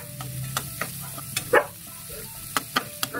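Garlic, onion and tomato sauté in a hot pan with a soft, constant sizzle, broken by repeated sharp scrapes and clinks of a utensil stirring at an irregular pace.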